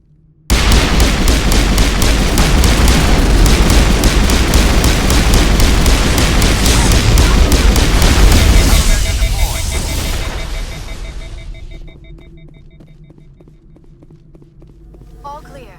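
A grenade blast in the video game Mass Effect: a loud, sustained roaring burst with crackling debris that lasts several seconds, then fades into lingering rumble and ambient hum, with a voice under the noise.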